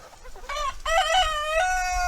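Backyard chickens in a chicken run in Deep South Texas cluck and crow in a run of loud, close calls, with a rising crow-like cry breaking in partway through.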